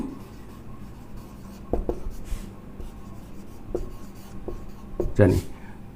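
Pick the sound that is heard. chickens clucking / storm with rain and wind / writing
writing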